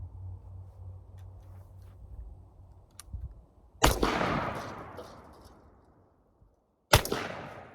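Two loud, close blasts from a 12 gauge double barrel shotgun fired outdoors, about three seconds apart. Each sharp crack is followed by a long rumbling decay, with faint handling noise before the first shot.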